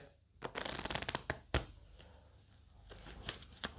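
A deck of playing cards, split in two halves with one face up and one face down, is riffled together in quick fluttering bursts, close and crisp, with softer handling noises between.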